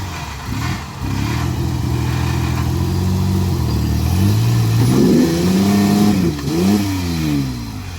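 Car engine revving hard after a fresh engine swap, sustained rising and falling mid-pitched roar close by with a brief dip near the end, no talking over it.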